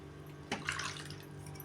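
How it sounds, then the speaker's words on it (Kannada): Water poured into a pot of sprouted chickpea sambar simmering on the stove: a short, soft splashing pour starts partway through and trails off into a faint steady hiss of liquid over low kitchen hum. "ಅದಕ್ಕೆ ನಾನು ಸ್ವಲ್ಪ ನೀರು ಹಾಕ್ತಾಯಿದ್ದೀನಿ"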